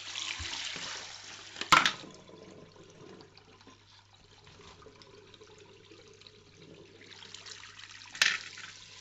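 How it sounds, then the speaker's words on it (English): Hot water runs from a sink tap in a steady, fairly quiet stream, with a couple of sharp clunks and splashes breaking in as items are handled in the basin. "So I've got the hot water going, so it's going to be nice lukewarm water"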